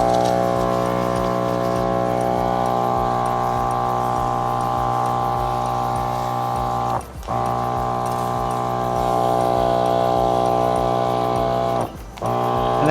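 A Fanttik NB10 Nano portable pressure washer motor runs with a steady, close whine that holds constant, briefly cutting out twice before resuming.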